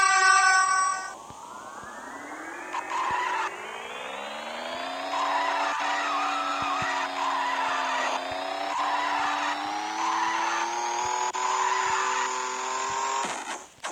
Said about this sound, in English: hold the drift right, hold the drift left